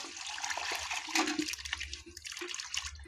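Small chopped pieces of beef head skin are rinsed and swished in water, with continuous splashing and sloshing that swells and dips throughout.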